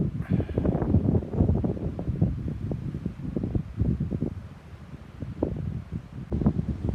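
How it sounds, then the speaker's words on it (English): Steady wind buffeting the microphone, a low rumbling roar with gusty fluctuations throughout and no voices. "Lovely windy day up here."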